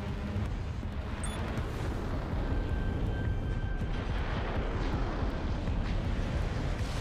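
Explosions in the Armored Core 6 video game make a continuous, heavy rumble of overlapping blasts. The dense roar stays fairly constant and grows slightly stronger midway, with no voices.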